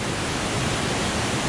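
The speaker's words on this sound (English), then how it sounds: "I've stopped here at this nice little waterfall." A small waterfall on Tasmania's Overland Track pours with a constant, dense rushing hiss that fills the whole moment without a break.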